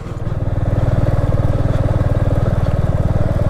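A motorcycle engine runs steadily and close by, with a fast, even throb held at constant loudness throughout, alone on a monsoon ride to Kaijoda waterfall in Odisha.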